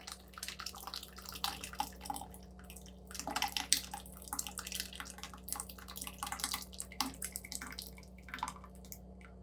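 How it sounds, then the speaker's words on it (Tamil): Mashed cooked lentils are poured from a cooker into a pot of drumstick sambar, making soft, irregular splashing and dripping sounds close by with no talk. "இப்போ பருப்பு கடைஞ்சிட்டோம் இதை ஊற்றிடலாம்"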